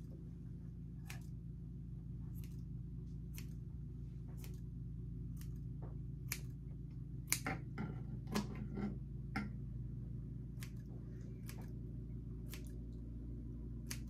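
Sharp, intermittent snips of grooming shears cutting a 37-pound Irish Euro Goldendoodle's fur over a steady low hum, scattered irregularly with a quicker cluster of cuts in the middle.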